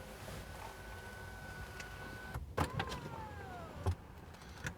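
Electric sunroof sunshade on a 2019 Mercedes-AMG E53 Coupé whirring open inside the car, a steady motor whine that stops with a clunk, then a few clicks and a second falling motor hum, heard close in a quiet cabin.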